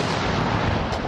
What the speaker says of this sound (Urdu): 21 توپوں کی سلامی سے ہوا۔